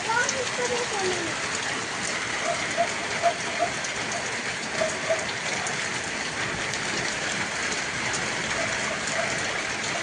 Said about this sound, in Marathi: बऱ्यापैकी पाऊस पडत आहे